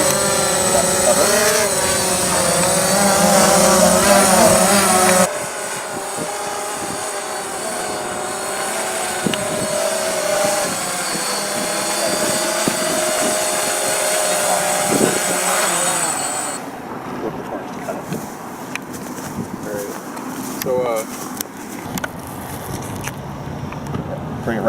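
A small multirotor drone's electric motors whine and buzz close by, holding a steady hover before the pitch and loudness shift as the throttle rises, with a voice heard at times over the motor drone.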